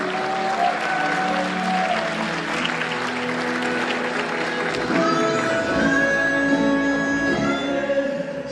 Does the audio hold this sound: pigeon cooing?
no